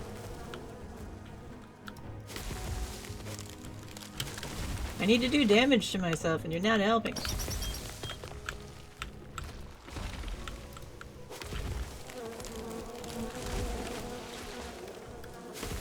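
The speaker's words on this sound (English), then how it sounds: "Too early, bees! Too early!" Bees buzz in the video game Len's Island, a wavering insect drone that swells for a couple of seconds amid game noises while someone talks.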